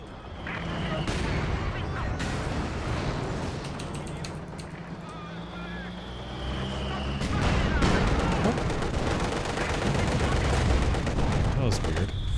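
Sustained machine gun fire in a video game, with Maxim guns spamming dense, rapid overlapping bursts and distant booms in a steady, busy battlefield din that swells near the end, with a voice talking over it.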